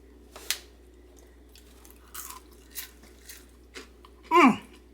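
Crunchy bites into air-fried soft shell crab, a few scattered crisp crunches followed by one louder, longer crackling chomp near the end, close and otherwise quiet.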